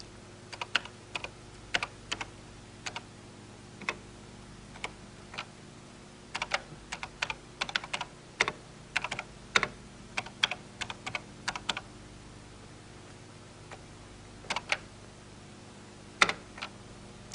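Typing Logo commands on a 1983 computer keyboard, with sparse, irregular key clicks in short bursts over a quiet steady hum, fairly close and soft.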